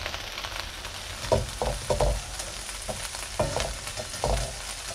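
Ham pâté melting in a frying pan, sizzling steadily with a dense crackle and irregular soft bursts of popping and scraping from stirring, close and fairly quiet throughout.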